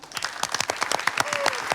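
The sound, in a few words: applause for a guest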